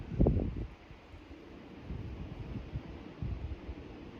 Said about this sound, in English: hear the wind blowing?